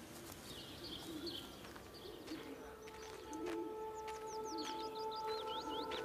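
Birds coo and chirp in an outdoor scene from the video game Everybody's Gone To The Rapture, with soft calls and brief tweets over a steady ambient bed and a faint sustained tone.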